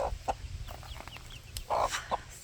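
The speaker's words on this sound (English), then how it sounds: "that black and yellow one, they are frizzle bantams. So bantam meaning small mini chicken." Small frizzle bantam chickens cluck in short, separate bursts close by, including one black and yellow bird, over a low steady rumble of farmyard background noise.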